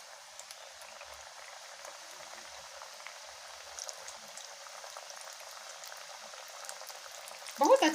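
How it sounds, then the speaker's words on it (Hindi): Nimki dough pieces frying in hot oil, a constant fine bubbling sizzle heard close and at moderate level, with a short louder splash of activity near the end. "छानने के लिए मेरा तेल गरम हो गया है। अब मैं इसमें डाल दूंगी सबको।"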